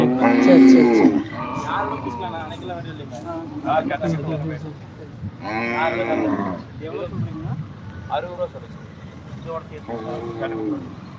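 Native cattle moo at a cattle market near Coimbatore, with loud calls rising over busy crowd chatter and people talking nearby.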